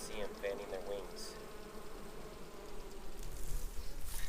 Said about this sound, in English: They're fanning to let the other bees know where the queen is. You can see them fanning their wings.